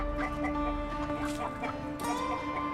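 Chickens cluck in a repeated, choppy series of short calls, fairly close and loud, over a steady background hum.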